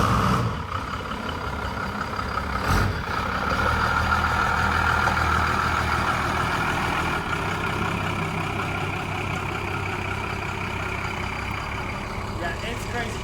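1992 Bounder pusher motorhome with a 12-valve Cummins turbo diesel drives along, a steady low engine rumble and road noise running throughout with a brief clunk early on, with people talking faintly over it.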